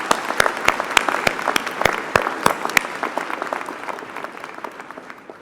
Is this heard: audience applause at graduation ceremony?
yes